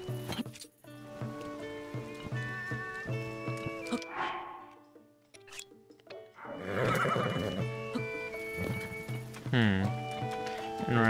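Horse in the video game Zelda: Tears of the Kingdom, loud repeated whinnies and snorts with rising and falling pitch, mixed with clopping and other game sounds, close and prominent.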